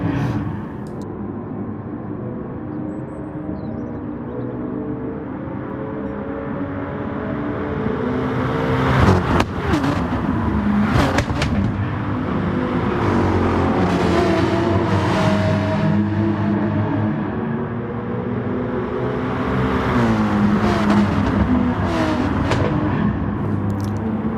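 Two Mercedes and two Porsche race cars chase each other around a sim racing track at St. Croix, engines droning steadily with revving swells and a sharp transient near the middle.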